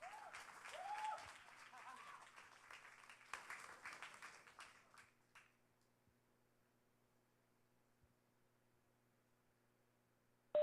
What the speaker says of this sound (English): Give Paul a big round of applause